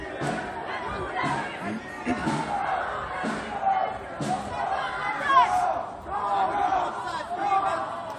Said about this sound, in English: Calls from the crowd to turn left.